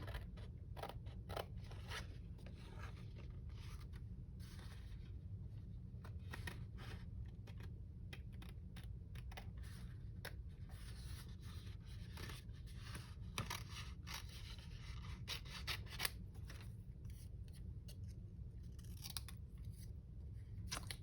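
Scissors snipping through paper for a handmade junk journal page, a steady run of quick close-up cuts and scrapes repeating throughout without pause, no talking.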